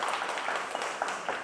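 A church congregation claps for a sister who helped prepare a program, a dense burst of applause that stays steady and fairly full for a brief moment.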